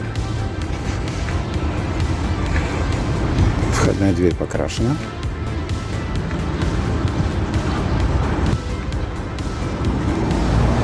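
A car drives past on a city street in Perm, its engine and tyre rush forming a broad steady roar under continuous nearby talk.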